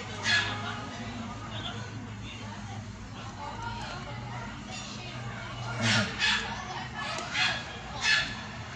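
An unfamiliar-looking dog gives a few short yips and whimpering barks, rising in a cluster of sharp bursts toward the end over a background of people talking quietly.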